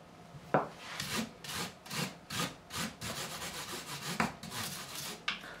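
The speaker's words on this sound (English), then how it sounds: "So this 400 grit is smoother, obviously, than the 240 grit. It's going to remove some of these deeper scratches." Hand sanding the frets of a Fender Tom Delonge Stratocaster with 400 grit sandpaper, close rhythmic back-and-forth rasping strokes about one per half second, with no talk.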